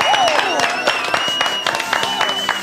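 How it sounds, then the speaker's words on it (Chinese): Studio audience applause on a televised cooking show, a dense burst of clapping with scattered cheers and voices mixed in, loud and sustained through the whole moment. "掌声鼓励。"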